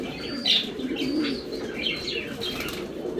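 A tournament pigeon coos in soft, repeated throaty calls close by, with a brief wing flutter and faint chirps in the background.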